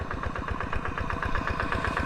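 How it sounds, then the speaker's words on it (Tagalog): An irrigation pump engine in a calamansi orchard runs close by with a steady, rapid mechanical throb, loud and regular with no talk over it. "Maandar na yung makina."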